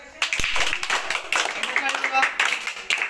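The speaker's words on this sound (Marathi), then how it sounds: "टाळ्या वाजवा एकदा." A classroom group of children claps together in a dense burst of applause lasting a few seconds, with voices mixed into the clapping.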